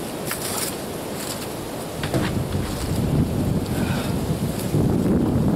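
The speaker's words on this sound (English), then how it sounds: "The wind is so terrible, it's throwing things all over the place." Strong, damaging wind roars and buffets steadily outdoors, a broad rushing noise that grows louder over the few seconds.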